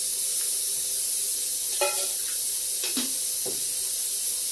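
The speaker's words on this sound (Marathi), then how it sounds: "आता मी शेंगदाणे भाजून घेते तव्यामध्ये तेलामध्ये" Peanuts roasting in a little oil on a flat pan give a steady sizzling hiss throughout, with a few brief scraping stirs mixed in, close and even in level, with no talk.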